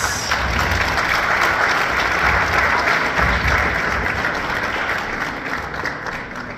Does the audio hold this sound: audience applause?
yes